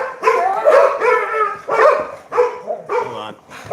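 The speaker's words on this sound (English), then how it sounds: "We're dealing with the dogs." Several dogs bark and yip in a run of repeated bursts, loud and close, with people talking at times in the background.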